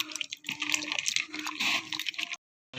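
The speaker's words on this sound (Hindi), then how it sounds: "आप इसमें पानी डाल दें।" Water poured into tamarind pulp for a sweet-sour tamarind and jaggery chutney, a steady splashing pour with wet squishing that breaks off abruptly near the end before resuming briefly.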